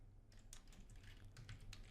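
A command typed into a Python console on a computer keyboard: a quick, close run of light key clicks over about two seconds, quiet and alone without talk.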